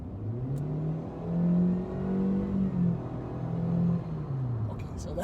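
A 2019 Chevy Spark LT with a 4-cylinder 1.4-liter Ecotec engine and CVT accelerates, its engine note swelling and easing in a few smooth, droning surges, heard from inside the car with some talking over it.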